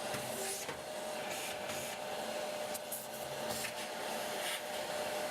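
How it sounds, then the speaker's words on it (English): A vacuum cleaner fitted with a long extension tube runs steadily inside the chamber of a gas fireplace, its constant motor whine broken by rubbing, scraping surges as the nozzle moves against the surfaces. "Use a long extension tube on your vacuum to reach into the back of the chamber."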